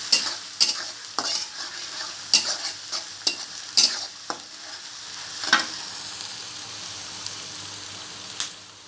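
Chopped garlic and onion fry in a wok for a cabbage dish, a constant low sizzle broken by sharp, intermittent scraping strokes of a stirring spoon, close and without talking.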